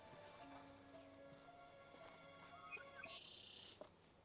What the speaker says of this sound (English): It's a bird. I think it's goose.